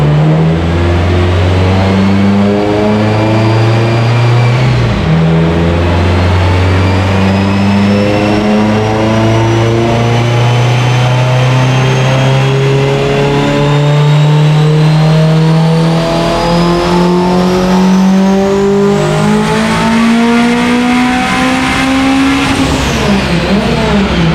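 A Subaru EJ257 turbo engine on a stock assembled block making over 900 wheel horsepower, revving hard through a long dyno pull, a loud, continuous rising engine note that dips briefly partway and climbs again before cutting off.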